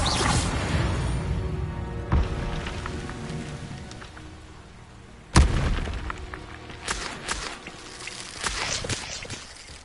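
Spell-casting effects from Hogwarts Legacy, a sharp magical burst followed by whooshing, crackling impacts over a dense wash of game ambience and combat noise, with two louder hits standing out.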